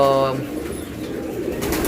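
A soft, low pigeon coo rolls out at the start, fading into quiet background murmur and faint rustling.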